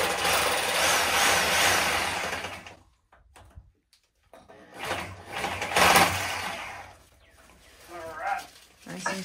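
A power saw runs loudly at a water well worksite, its motor droning with a steady buzz that cuts out briefly, then returns and fades again, with people talking over the noise.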